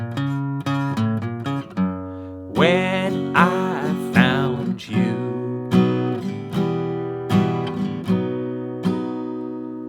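An acoustic guitar plays a song with a walk-in bass line, picking sustained single notes and ringing chords at a relaxed tempo while a voice briefly sings along.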